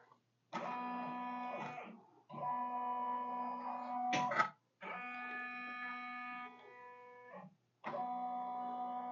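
An embroidery machine traces a design outline for pillow cases, giving off buzzing, whirring motor runs in four separate bursts with short silent gaps between them.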